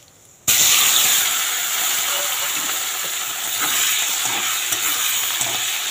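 Boiled potatoes drop into hot oil with bay leaf and whole cumin and set off a sudden loud sizzle that keeps hissing steadily, with a few faint stirring knocks.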